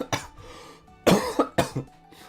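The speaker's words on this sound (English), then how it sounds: "One, not cough my brains out." Three sharp, close coughs in quick succession, each a harsh burst with a short throaty tail, with no talking around them.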